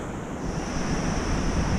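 Heavy surf rolls and breaks on Portugal's west coast, a continuous roaring wash that swells slightly louder toward the end, mixed with wind rumble on the microphone.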